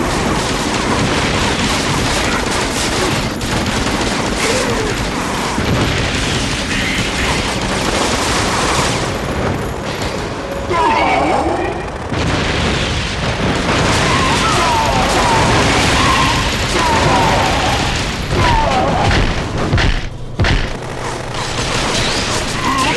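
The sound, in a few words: gunfire and explosions in the Gungrave: Overdose video game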